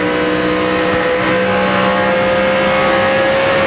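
At a 2002 Pennsylvania 500 NASCAR race, a stock car engine holds a loud, steady high-RPM drone with a sustained harmonic whine and no gear changes.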